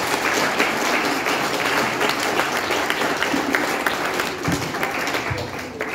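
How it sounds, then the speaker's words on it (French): A church congregation applauds the musicians with steady, dense clapping that fills the room, loud and continuous throughout, with faint voices mixed in. "Vous pouvez les applaudir, chers amis."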